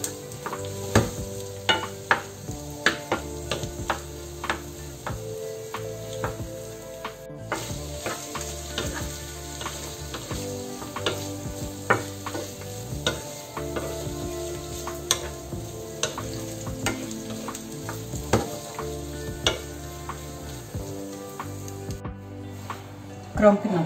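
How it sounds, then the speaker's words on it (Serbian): Sausages frying with onion in a pan, a continuous sizzle broken by frequent clicks and scrapes of stirring, with background music and occasional speech underneath. "Malo ćemo da ispražimo viršle, nekih 10 minuta vam je dovoljno."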